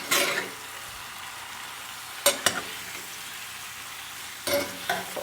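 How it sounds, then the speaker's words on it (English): Potatoes and bacon sizzle in a Dutch oven under a constant soft crackle of frying fat, broken by a few brief scraping, clattering stirs near the start, middle and end. "And then just stir the whole thing together."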